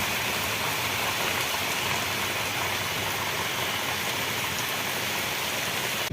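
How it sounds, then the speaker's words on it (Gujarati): Heavy downpour in a village street, a dense, unbroken roar of rain hammering surfaces with water running, steady and loud throughout, with no voices. "તો તમે જોઈ શકો છો કે ધોધમાર વરસાદ વરસી રહ્યો છે।"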